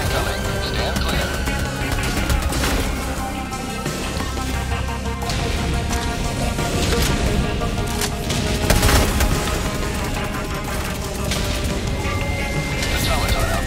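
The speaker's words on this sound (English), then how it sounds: "I guess we'll throw a barrage in there. Orbital barrage incoming." Orbital barrage in Helldivers 2 pounding the area with repeated heavy explosions and crashing booms layered over steady game noise, loud and sustained, with a player's voice talking over parts of it.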